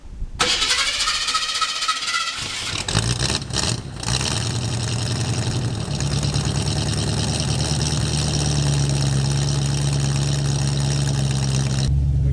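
A V8 Ford Mustang, revived after sitting for 22 years, cranks and fires up, then settles into a loud, steady, rumbling idle that holds close and even.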